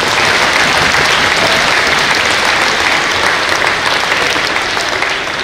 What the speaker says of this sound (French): Je vous demande d'applaudir, vous applaudir tous.